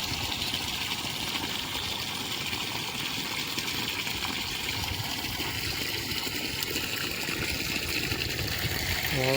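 Water poured onto a peepal tree beside a temple, a steady running trickle with a continuous hum like an engine or pump throughout, no clear speech.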